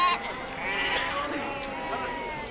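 A sheep bleats at a Tuesday livestock market in Azrou. The bleat is a single wavering cry over steady market background noise.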